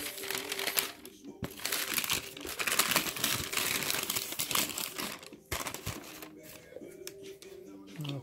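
Nike wrapping paper from a shoe box crinkles and rustles close by in bursts, with short pauses between handling sounds.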